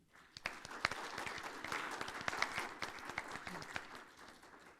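Applause from an audience at a speakers' event during a Catholic mission week, a moderate spread of individual hand claps building quickly and thinning near the end, somewhat distant and faint.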